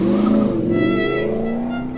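A cartoon car revs and speeds away toward a party, a loud close engine whine that rises in pitch, with a brief tire-squeal edge, then fades slightly as it pulls off.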